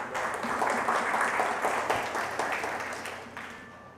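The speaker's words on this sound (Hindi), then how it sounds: "आइए जोरदार ताली से प्रभु को धन्यवाद दे।" A church congregation claps loudly and steadily for several seconds, a dense wash of many hands filling the room with no talking over it.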